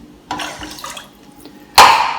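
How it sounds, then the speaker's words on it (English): Water poured from a cup into a pot holding one cup of rice, two separate splashing pours with a pause between them, close and clear. "now I'm going to put 2 cups of water in"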